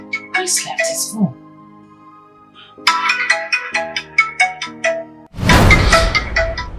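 A mobile phone left behind rings with a bright electronic ringtone, several melodic bursts of tones, then a louder noisy burst at the end; a voice speaks briefly between the rings.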